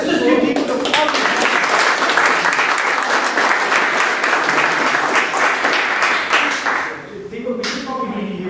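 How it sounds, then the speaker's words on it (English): Applause from people at a happy-hour talk: a thick roar of many hands clapping that carries on for several seconds, then thins out and drops away near the end, with a voice briefly heard. "Let's just give people the applause."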